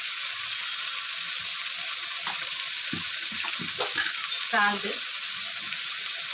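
Tomatoes and chili powder are stirred in a hot pan for a potato-tomato curry, under a steady loud sizzle broken by scattered utensil scrapes and a brief metallic rattle, with a faint voice at times.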